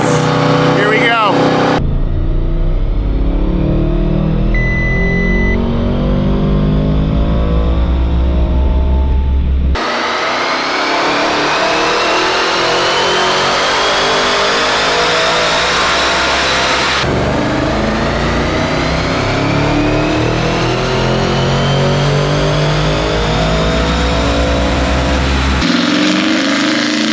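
A tuned Audi RS6 Avant with a Unitronic Stage 1+ tune revs hard on a dyno in a sweeping, rising roar that climbs in pitch across repeated pulls, loud and close, with voices talking over it.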